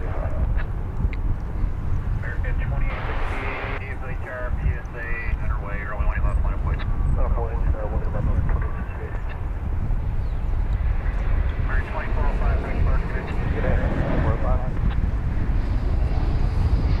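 A PSA Airlines plane taxis past at DFW Airport, its jet roar broad and constant across the clip, buffeted by wind on the microphone, with a voice faintly present at times.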